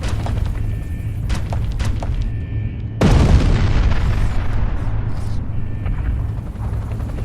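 Fuel tanks exploding in the Gears of War 2 video game, one loud, sudden boom that rolls into a long, rumbling decay over a steady low hum of game noise.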